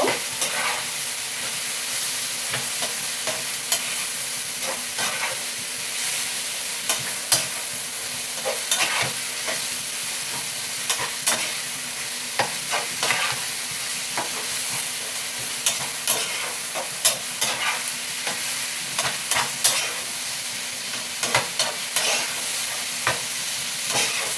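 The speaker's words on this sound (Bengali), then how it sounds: "এবার মশলাটাকে আমি ভালো করে কষিয়ে নেব।" Spices with turmeric being fried for a Bengali-style mutton curry, a continuous loud sizzle with frequent sharp spatula scrapes against the pan, close up and without talk.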